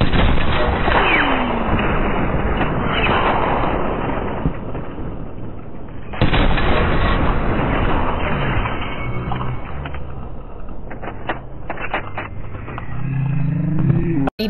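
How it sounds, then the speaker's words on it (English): Rapid sniper rifle shots in a video game, a dense stretch of loud, sharp cracks and heavy rumble that continues without a break through most of the span, ending with an abrupt final burst. "Back to back to back shots."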